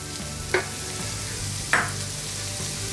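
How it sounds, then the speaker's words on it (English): Onions and red pepper fry in canola oil in a wok with a constant close sizzle, broken by two sharp utensil knocks against the pan; no speech. "So I'm going to go in with my onions, the red pepper. I'm just going to cook this off for a while."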